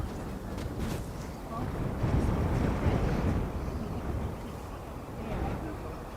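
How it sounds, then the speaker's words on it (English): Wind buffets a camera mounted on a tripod at a harbour, a loud, continuous low rumbling roar that swells and eases throughout. "The wind's shaking the tripod a bit."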